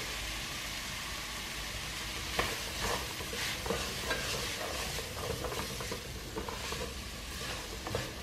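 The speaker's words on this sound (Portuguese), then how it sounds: "Depois que eu fritei um pouco meu alho e a minha cebola, eu vou vir com o meu bacon e a minha calabresa e colocar aqui dentro para fritar" Bacon and calabresa sausage fry in a pan with garlic and onion, a steady close sizzle and crackle with occasional stirring scrapes and pops, no voices over it.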